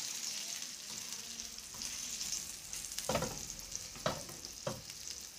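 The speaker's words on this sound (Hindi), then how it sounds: "हमारी फिश अच्छी से फ्राई भी हो चुकी है।" Surmai fish fries in a pan with a steady, soft sizzle, broken by a few louder crackles and spatters as the pieces are moved or turned.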